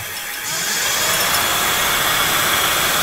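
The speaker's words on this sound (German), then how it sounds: "Wenn ich jetzt hier Gas gebe, dreht sich der Motor entsprechend logischerweise." A home-built 72V 3000W e-bike motor spins up under throttle, jumping from quiet to a loud, steady high-pitched electric whine and hum that holds constant up close.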